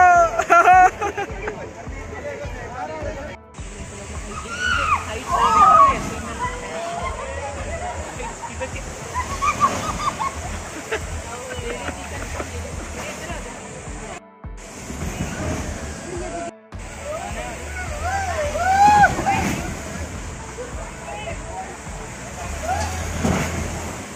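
Water rushes and sloshes steadily at Fun City water park in Chandigarh, beneath lively crowd babble and nearby people talking and shouting throughout.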